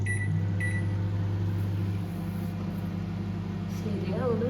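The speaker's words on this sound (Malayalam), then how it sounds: "ഓവനിൽ വെച്ച് നമ്മൾ 2 മിനിറ്റ്സ് ഒന്ന് ബേക്ക് ചെയ്തെടുക്കാൻ പോകാം" A microwave oven heats an Oreo mug cake with a steady low hum that runs throughout, fairly quiet, with faint background voices.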